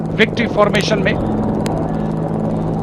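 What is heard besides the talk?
Apache helicopters flying past in formation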